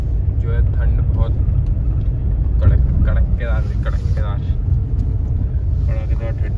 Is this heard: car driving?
yes